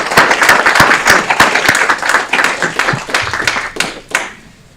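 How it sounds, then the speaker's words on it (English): Meeting audience at a city committee of the whole session breaks into loud, brisk hand clapping, a dense run of sharp claps that thins into a few scattered final claps and fades out. "Let's give them a round of applause."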